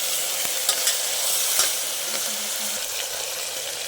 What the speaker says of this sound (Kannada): ನೋಡಿ, ಚೆನ್ನಾಗಿ ಫ್ರೈ ಆಗಿದೆ.